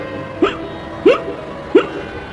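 A voice imitates hiccups, three sharp, loud, evenly spaced hic sounds about two-thirds of a second apart, close to the microphone.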